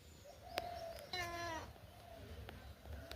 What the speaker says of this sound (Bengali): পুষি খিদা লাগছে?